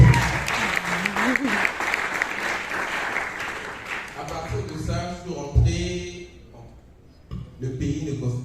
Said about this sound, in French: Est-ce qu'on peut applaudir ça?